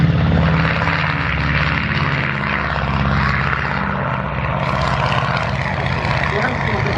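An Avro Anson propeller aircraft drones overhead at the RAF Cosford air show, a steady loud engine hum running throughout while an announcer talks over it.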